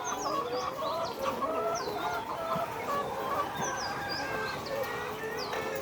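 Hens on a poultry farm cluck and chatter continuously at close range, many birds overlapping in short repeated calls with occasional higher squawks over a steady barn din.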